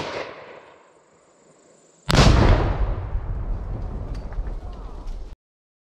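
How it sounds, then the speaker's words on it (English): A gallon-sized explosive charge blows up a tree in an outdoor body armor test, one sudden loud blast after a quiet stretch, followed by a rumbling, crackling decay of debris over several seconds. "Is he gonna blow this tree up hard?"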